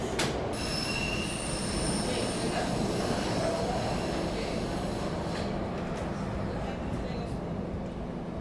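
A SEPTA Broad-Ridge Spur subway train pulls out of a station, its wheels squealing in high, sustained tones over a dense, loud rumble of rolling stock heard from on board, with talking mixed in.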